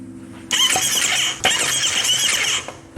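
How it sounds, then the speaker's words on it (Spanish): A damaged crankshaft in a Kawasaki Z250 motorcycle engine gives a loud, steady high-pitched squealing whine with a knocking undertone, starting abruptly and running continuously at close range with no talk. "es un sonido bastante fuerte, entonces lo que hicimos fue verificar por nuestro lado de volante y vea lo que encontramos, que el sonido es directamente de nuestro cigüeñal"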